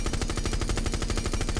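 Rapid automatic rifle fire from Thatcher's weapon in Rainbow Six Siege, fitted with a compensator and vertical grip: a dense, even stream of loud, close shots in a steady fast rhythm with no pauses, no talk.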